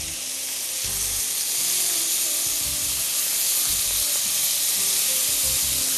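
Chicken breast fillets sizzle steadily in a hot pan, a loud, continuous frying hiss with soft low bumps from the pan, no voices.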